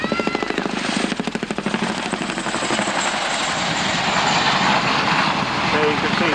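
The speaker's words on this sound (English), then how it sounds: "quite an impression from the heavy rotor blades of this magnificent helicopter" A heavy Chinook helicopter passes overhead, its big rotor blades giving a loud, rhythmic thumping that blends into a steady, roaring wash.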